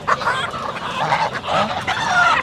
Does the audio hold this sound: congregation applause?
no